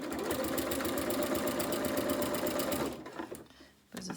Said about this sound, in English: walking foot is noisier